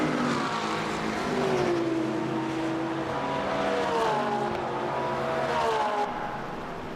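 Several race car engines from the Le Mans Ultimate racing game snarl through rising gear-by-gear pitch sweeps, accelerating hard and close, as cars run side by side in a wet ranked race, continuous and loud with no talk.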